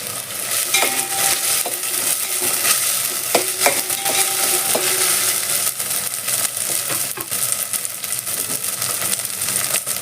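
Ginger garlic paste frying in a pan while being stirred, a loud continuous sizzle with the repeated scrape and clink of a spoon against the pan.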